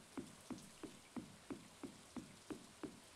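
Rain falls in the Stardew Valley farming game as a faint, continuous hiss, with soft thumps repeating at a steady, even pace underneath.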